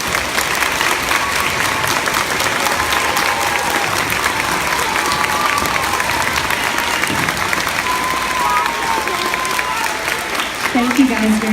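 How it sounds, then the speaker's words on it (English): Students applaud veterans at an elementary school Veteran's Day program, a steady, dense round of clapping from a large crowd that holds even and fairly loud throughout, with faint voices mixed in. "will you give our veterans one more round of applause?"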